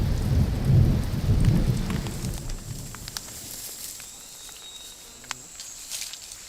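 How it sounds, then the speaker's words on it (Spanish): Steady rain falls while a low rumble of thunder rolls in the first seconds, then fades, leaving drips and patter. "Es que está lloviendo todos los días"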